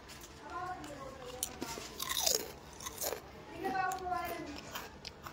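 Crunchy chips being bitten and chewed up close, with crackling crunches recurring over several seconds beneath people talking.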